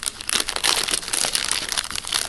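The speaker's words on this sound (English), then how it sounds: "we can just open the top of the box, despite the plastic, but you know what, I'm just going to go ahead and rip it." Plastic wrap being torn and crinkled off a Lolita Lempicka perfume box, a close, steady run of crackling rips and crumples with no talking.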